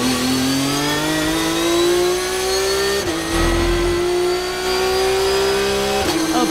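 Antonella Bassani's race car completing a lap, a loud, close engine held at high revs with pitch climbing steadily, two sharp drops as gears shift, running alone without talk.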